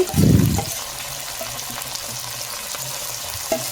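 Onions and green chillies frying in a pan with goat tripe for a gongura dish: a loud, close burst of frying at the start, then a steady, quieter sizzle underneath.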